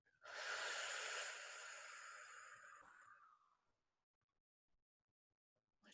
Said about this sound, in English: why don't we all just take a nice deep breath in